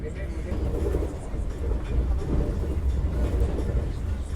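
Interior rumble of the Vande Bharat Express running at speed, a dense low roar with rhythmic rolling texture, steady and continuous.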